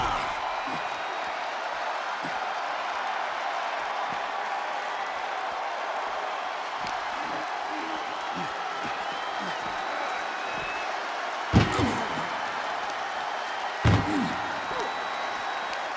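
Steady live arena crowd roar from the WWE 2K25 wrestling game during a casket match, sustained and loud with a couple of sharp slam impacts near the end.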